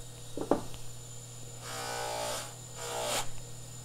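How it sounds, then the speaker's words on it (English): A small buffing tool whirs against the top of a metal pin being polished for jewellery, two short quiet passes of a few tenths of a second each after a faint tap, close and soft. "I'm just going to buff the top of this."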